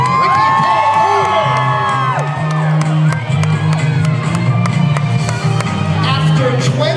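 Fans at a soap opera talk show at Disney's Hollywood Studios cheer, whoop and shout as a crowd, a loud sustained roar with whistles and high excited voices throughout.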